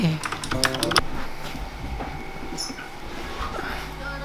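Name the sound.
typing on a computer keyboard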